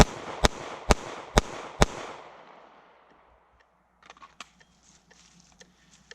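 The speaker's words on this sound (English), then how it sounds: "we're going to do a 5-shot string" Five gunshots fired at an even, metronome-like pace, each a sharp loud crack with a ringing tail, followed by quiet and faint scattered clicks and handling sounds.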